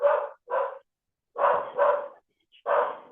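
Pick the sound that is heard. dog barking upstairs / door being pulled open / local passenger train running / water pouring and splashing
dog barking upstairs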